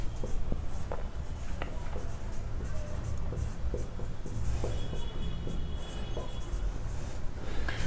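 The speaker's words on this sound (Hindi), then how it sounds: "तो मैं पहले परमुटेशन यहां लिख देता हूं।" Chalk or marker scratches and taps steadily on a classroom board as a teacher writes out a permutations problem, a close, continuous scraping with short strokes and clicks and no speech.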